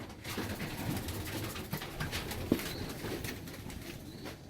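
Racing pigeons in a loft give soft, low coos against a noisy, rustling background, with occasional faint calls scattered through the stretch.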